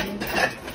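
Dishes and cutlery clink softly in a brief flurry of light knocks as they are set into a dishwasher rack.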